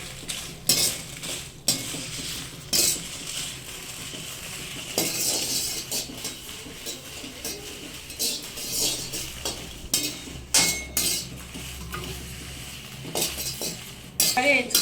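Dry red chillies roasting in a pan with a drop of oil, with a spoon scraping and clinking against the metal as they are stirred, under a soft sizzle, with occasional louder knocks throughout.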